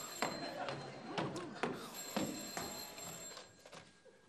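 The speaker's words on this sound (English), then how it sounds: "Why does the phone always ring when you're on your way to the bathroom?" An old telephone bell rings late at night in a house, a series of loud clanging bursts in rhythm with short gaps between them, fading slightly toward the end.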